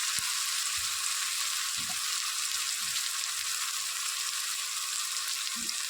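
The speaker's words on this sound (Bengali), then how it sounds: "এবার মশলাটাকে ভালো করে কষে নেবো।" Spice paste fries in a pan for Bengali cooking, a steady, bright sizzling hiss throughout with a few soft low knocks from the pan.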